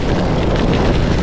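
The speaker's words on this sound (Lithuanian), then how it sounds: "Tikiuosi girdit per vėją" Wind roars into the microphone of a cyclist riding alone through Lithuania toward Pabradė on a very windy day, a loud, continuous broadband buffeting that fills the whole moment with no voice over it.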